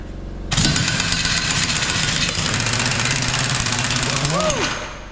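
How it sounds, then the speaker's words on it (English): A big 1-inch Ingersoll Rand impact wrench on a nylon lock nut, a loud sustained pneumatic roar that starts abruptly after a half-second hum, runs continuously close up, then winds down with a pitch shift near the end. "now we're gonna get the big 1-inch Ingersoll Rand on it, see if that gets it out"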